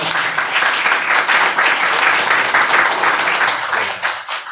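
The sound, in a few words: audience applause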